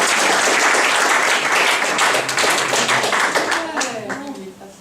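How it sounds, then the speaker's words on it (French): A French-speaking audience at a mediatheque comedy show bursts into sustained applause, dense clapping filling the room and slowly thinning toward the end as voices start to rise through it. "Là, je demande vos applaudissements."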